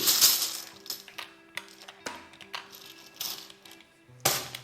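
Scrabble tiles being drawn and set face down beside the rack during a classic game: a run of close, sharp clicks and light clacks at irregular intervals, each brief and crisp, with no talking.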